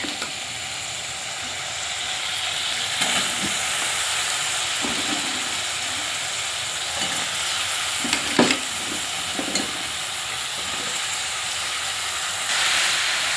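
Banana stem mashed with salt and turmeric hits hot fried spice paste in a pan, giving a loud, steady sizzling hiss with a few stirring scrapes and clicks, close and continuous without talk.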